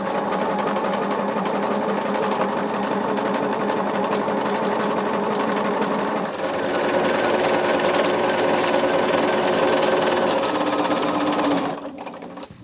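A sewing machine runs steadily, stitching top sashing onto an Ohio Star basket quilt block, a continuous close whir that shifts pitch slightly midway and stops just before the end.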